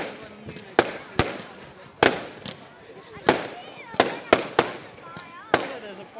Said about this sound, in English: Yeah, there's a fireworks show today.